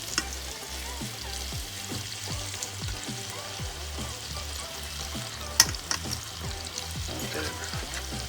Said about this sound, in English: That, my friend, is sizzling.